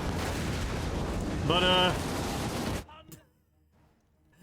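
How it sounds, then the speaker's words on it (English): Dense gunfire crackles and booms through a Total War: Warhammer 3 battle as bullets ping off a tough lord, a loud sustained barrage under a brief ringing tone that cuts off abruptly, leaving near silence with a faint voice. "You can actually see all the little bullets pinging off of his body."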